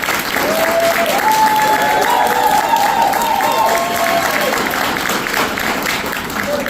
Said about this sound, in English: would you mind giving her and the rest of our leadership here at Focus Hope another round of applause?